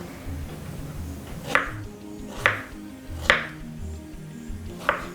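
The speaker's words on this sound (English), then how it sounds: "we're going to cut in a few slices of strawberries" A knife cuts through fresh strawberries on a board for a dessert, giving four separate crisp chops spaced about a second apart over a faint room hum.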